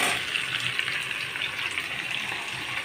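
Vegetables sizzle steadily in a hot pan on medium flame for chicken stew, a loud continuous frying hiss with no talk over it.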